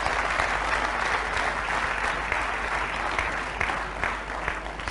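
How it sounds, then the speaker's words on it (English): Audience at an institute talk applauds a gentleman with steady, dense clapping that holds for the whole stretch, loud and close, with no voices on top. "Can we have a big round of applause for this gentleman?"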